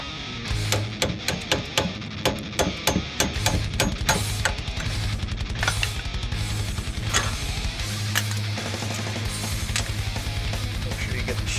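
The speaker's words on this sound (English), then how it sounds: "So we're going to bust out the old chisels and get this done." Chisels are hammered against an old wheel bearing on a 2007 GMC Savana dually rotor hub, giving a run of sharp metallic strikes, quick and regular at first, then denser ringing blows, close and loud.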